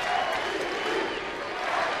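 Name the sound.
baseball crowd chanting MVP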